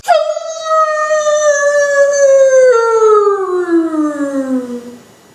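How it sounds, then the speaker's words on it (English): A single long, loud howl, starting high and sliding slowly downward in pitch before fading out, close and clear with nothing else around it. "the wolf looks back to me and howls"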